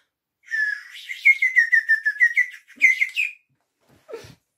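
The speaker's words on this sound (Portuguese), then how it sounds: "Entrou pela janela, voando um passarinho." A small bird that has flown in through a window chirps and whistles in a rapid series of bright, high notes, close and clear, followed by a short pause and a brief lower sound.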